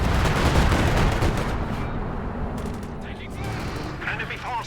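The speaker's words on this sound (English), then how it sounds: "we've got some time on target artillery coming in" A time-on-target artillery barrage lands in Company of Heroes 2 as a dense, continuous roar of heavy shelling and gunfire. It stays loud and rumbling throughout, with crackling bursts on top and commentary talking over it.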